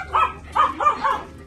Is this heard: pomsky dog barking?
yes